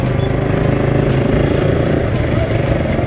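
A Suzuki R150 motorcycle engine runs steadily and loudly close by, a continuous rough drone with voices partly mixed underneath.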